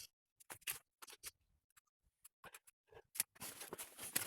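Plastic cable ties trimmed with cutters after being melted in place during a Peugeot 307 1.6 petrol fuel injector job, giving a few sharp close snips and clicks amid handling noise, with a denser patch of scraping rustle near the end.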